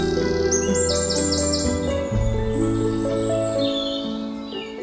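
Birds chirp and sing from trees on the wooded campus of Jayasree High School in Pulpally, with rapid repeated high tweets early on and scattered calls later over a steady low background hum.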